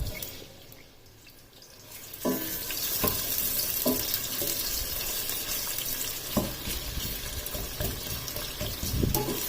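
Onions and whole garam masala fry in oil in a pan on the flame for gobi chicken, with a quiet start, then a steady close sizzle and intermittent clinks of a stirring spoon, with no voices.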